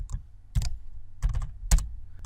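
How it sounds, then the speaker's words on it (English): Keys on a computer keyboard are tapped in short, clustered bursts with pauses between them, close and clear with no talking. "start typing the name of that file, and tab to get the complete file name"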